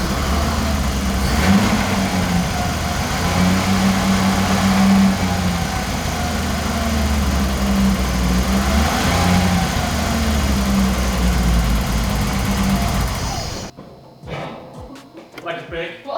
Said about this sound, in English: Now I'm gonna fire up the car and see if it explodes.